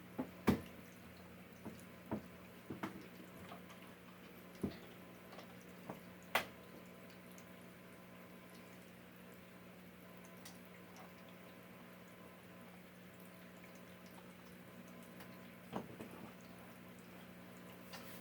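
An Elive Aquaduo 3 saltwater aquarium filter runs with a faint, steady hum, while scattered drips and light trickles of water land at irregular intervals, quiet and close.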